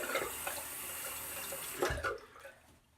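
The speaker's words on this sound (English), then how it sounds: "Get a little bit of that hot PEI water on the blade." Hot tap water runs in a steady splashing stream onto a Boker straight razor with maple scales, then a brief louder gush before the flow fades away.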